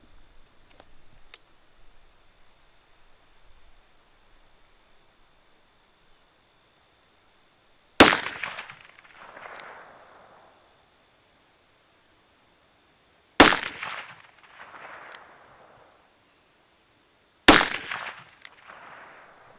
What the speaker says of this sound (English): let's see if I can even hit at 200 yards with a 22 mag out of a revolver